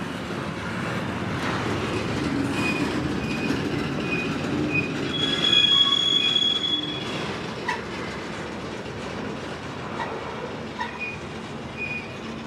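A CSX freight train rolls slowly into a siding, its wheels squealing in steady high-pitched tones over a continuous rumble of moving rail cars, loud and close throughout with no talking.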